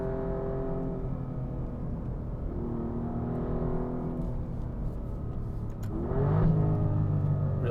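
Engine of an Alfa Romeo Giulia Quadrifoglio heard from inside while driving, a steady mid-pitched drone that dips briefly, then swells into a louder rev near the end.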